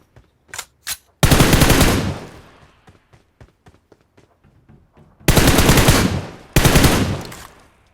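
UMP submachine gun firing in the PUBG Mobile game: a few short single shots, then three loud, sustained bursts of rapid automatic fire, close and punchy, with quiet gaps between.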